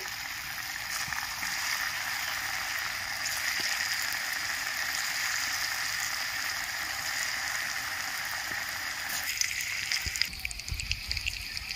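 Pieces of young jackfruit fry in hot oil, giving a continuous, faint, even sizzling hiss with no talking over it.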